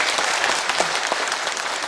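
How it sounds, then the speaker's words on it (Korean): An audience claps at a 2016 Korean National Assembly forum on amending the truth and reconciliation commission law. The applause is dense, steady and moderately loud, filling the short moment with no talk. "이 문제에 대해서 박수를 쳐주실 거면 크게 쳐주십시오"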